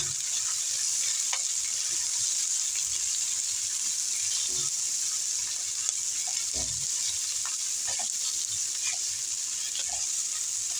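Garlic fries in a pan with a bright, continuous sizzle, broken by occasional clinks and scrapes as it is stirred, with no voices present.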